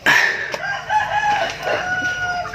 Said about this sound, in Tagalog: dito naman tayo sa breeding pen ng ating mga Rhode Island Red